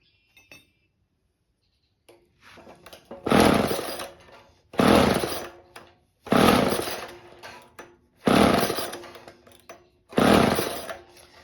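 A 3/4 hp Ohlsson & Rice two-stroke engine on a Polaris Power Pole snowblower fires in five loud, roughly one-second bursts, each dying away into silence before the next attempt.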